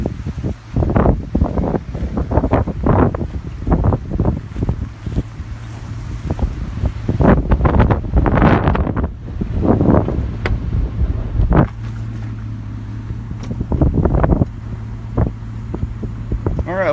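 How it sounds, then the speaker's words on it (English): Strong storm wind of about 20 miles per hour gusts hard into an outdoor microphone, with repeated loud buffeting bursts and rumbling blasts coming in irregular waves, plus brief lulls between them. "All right, we have sustained winds of 20, 21 miles per hour."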